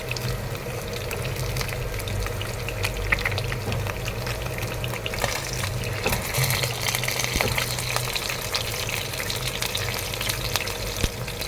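Pieces of climbing perch coated in crispy batter fry in hot oil, a dense, steady sizzle and crackle that runs loud and close throughout, with occasional sharper pops and no talking.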